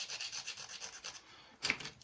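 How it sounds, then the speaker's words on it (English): A fine sanding stick rubbing against a plastic F-4 Phantom model kit: quiet, close rhythmic scratching strokes, ending in one slightly louder stroke, with no talking. "So what we want to do is sand away these areas."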